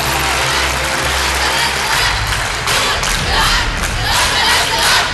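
Loud crowd cheering and roaring for the Al-Azhar team at an Egyptian quiz show, a sustained dense wall of voices swelling throughout with no clear speech.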